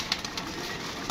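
Pigeons coo softly in low, throaty bursts at a feeding tray, faint against a steady background hiss.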